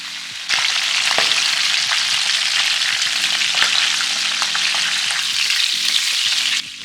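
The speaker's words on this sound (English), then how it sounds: "High flames is so I can crisp the skin really fast without cooking the fish too much." Fish skin fries in oil over a high flame, giving a loud, steady, close hiss and crackle that starts abruptly and holds, with faint clinks of a utensil underneath.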